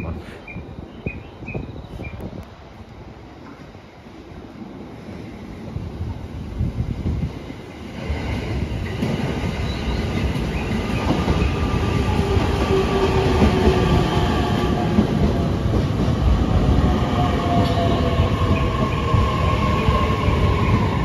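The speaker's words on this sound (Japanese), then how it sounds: "こちらにですね、特急日立30号がやってまいりました。" The Hitachi limited express train rumbles into a station and grows steadily louder, with rolling rail noise and a faint squeal, amid station ambience and some distant chatter.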